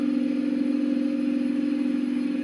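A Candy Hoover washing machine in a loud spin cycle gives off a steady, droning mechanical hum with a rattling edge, constant in level and heard alone.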